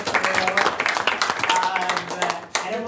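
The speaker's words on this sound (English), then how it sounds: "Yes, let's have a little round of applause." Brief round of audience applause at a community event on housing and labor, scattered claps that swell and then drop off abruptly near the end, with chatter mixed in.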